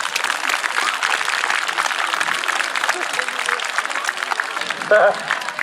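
A crowd applauds steadily at an outdoor show with a man and a bear in Épinay-sous-Sénart, dense clapping holding at a constant loudness, with a brief voice cutting in near the end.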